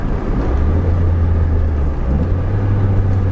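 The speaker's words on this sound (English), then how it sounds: "There we go, downshifting with no problems." A Nissan Pulsar GTI-R with an SR20 engine making about 227 horsepower downshifts on the move. A loud, droning engine note steps in pitch partway through over steady road rumble, with no talking.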